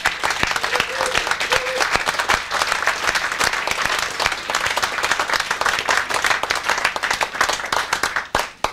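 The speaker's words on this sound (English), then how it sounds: "Round of applause, please." Concert audience applause for a guitarist in Devizes, dense rapid clapping from many hands, fairly close and loud, continuing steadily throughout with a few sharper individual claps.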